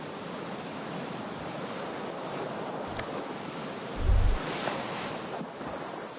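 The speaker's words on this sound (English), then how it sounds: "A cool wind gushes in." A cool wind gushes through a smashed window in Disco Elysium, a steady airy whoosh across the whole stretch with one brief low thump partway through.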